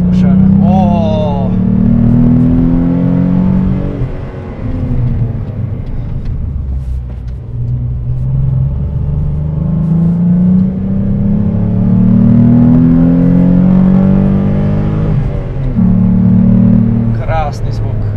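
A Renault Clio V6 RS engine pulls and revs while driving, its loud, deep tone climbing and falling in long sweeps as the car accelerates, with someone talking over it.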